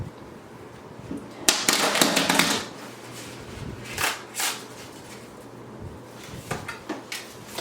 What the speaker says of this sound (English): Obviously you're gonna have to shuffle the deck before you start going.